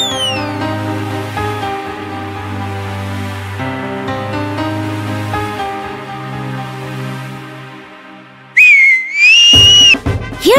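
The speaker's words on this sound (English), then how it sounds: "Hearing his whistle," Sustained tonal music plays for several seconds, then a loud, sliding whistle cuts in near the end with a couple of rising and falling pitches.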